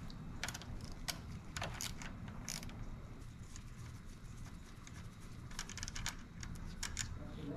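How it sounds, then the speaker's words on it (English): Faint metallic clicks and ratcheting from a wrench loosening a 10 millimeter bolt on a motorcycle shifter assembly, in short irregular bursts over a quiet background. "Next, I'm going to remove this 10 millimeter bolt right here."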